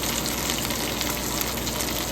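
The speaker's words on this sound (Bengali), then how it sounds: "এখানে ইলিশ মাছগুলো ভাজতে দিয়ে দিয়েছি" Hilsa fish sizzle in hot oil in a home kitchen, making a loud, continuous crackling hiss that fills the whole short stretch.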